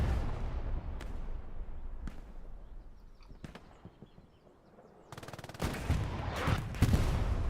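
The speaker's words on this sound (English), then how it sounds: "the artillery's just dialed in on it" Artillery shells land in the WWII shooter Hell Let Loose on Utah Beach: scattered heavy booms at first, then a dense, loud burst of rapid blasts near the end, with no voices.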